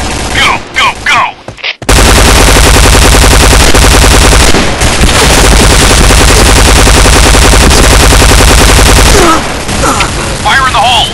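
Loud gun sound effects: sustained machine gun fire rattles in rapid bursts for most of the stretch, with a few short sharp shots and shouted voices before and after.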